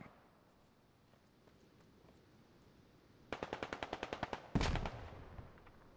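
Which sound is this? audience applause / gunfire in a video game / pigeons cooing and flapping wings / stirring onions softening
gunfire in a video game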